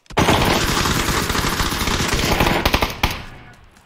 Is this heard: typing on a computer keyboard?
no